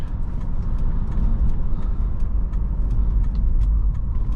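A 2004 Lexus SC430 in power mode drives with a steady, low engine rumble and road noise from inside the cabin, constant throughout with no talking.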